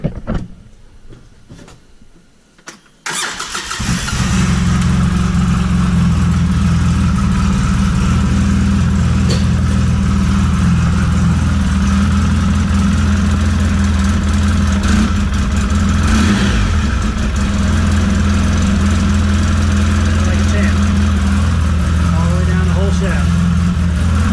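A Polaris RZR 800 side-by-side engine starts after a drive shaft install and settles into a steady, loud idle that runs on without a break.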